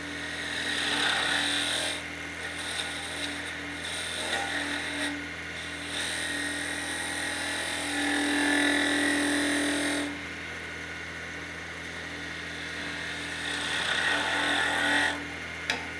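A skew chisel cuts a gentle taper on a wood spindle spinning on a lathe, giving a continuous scraping, hissing shave with brief pauses between passes, steady and close under the motor's hum.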